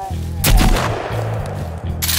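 Sharp gunshots in the survival game Sons of the Forest at a cannibal camp, one loud close blast near the start and another at the end, over a low steady in-game hum.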